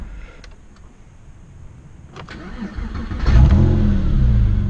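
A Porsche 911 997 Carrera S with a 3.8 engine starts up: faint clicks and a quiet interior at first, then the engine catches with a sudden rise into a loud, steady idle that grows fuller toward the end.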